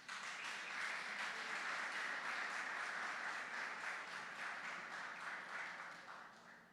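An audience applauding during a church sermon, a steady wash of many hands clapping that fades out toward the end, heard from a moderate distance.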